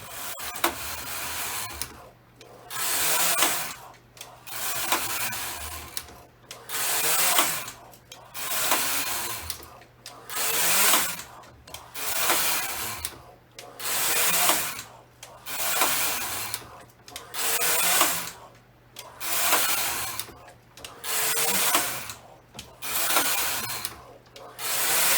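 A knitting machine carriage pulled back and forth across the bed, knitting rows of waste yarn, makes a steady rhythmic series of rasping, sliding strokes, about a dozen evenly spaced passes, close and moderately loud.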